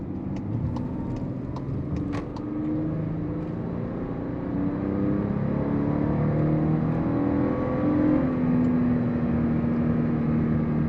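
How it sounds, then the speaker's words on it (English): The V6 engine of a 2023 Volkswagen Atlas revs out while driving, a steady whirring drone that climbs in pitch and grows slightly louder as it pulls, with faint ticking early on and no talk. "Gotta rev it out, that's for sure."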